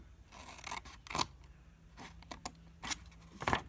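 Scissors cut through folded craft paper in a few short, crisp snips spaced across a few seconds, close and fairly quiet with no talking.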